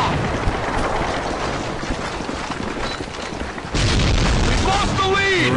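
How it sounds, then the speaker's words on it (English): A loud, continuous rumbling blast roars through a Call of Duty: Modern Warfare 2 multiplayer match, with a sharp jump in intensity partway through as a voice talks over the game sound. "Big explosion."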